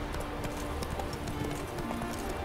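Roach, the horse in the video game The Witcher 3, gallops with a rapid, steady clip-clop of hooves for a couple of seconds, moderately quiet, with a hint of a voice in the background.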